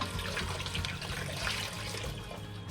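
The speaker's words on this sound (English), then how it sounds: "we're just going to keep filling it with water" Water pours steadily into a large canning pot being filled nearly to the top for pickling, a continuous broadband rush and splash close by with no talk.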